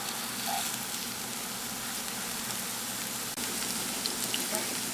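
Slices of nenthrapazham plantain frying in ghee in a pan, a steady close hiss and crackle throughout, with one brief knock partway.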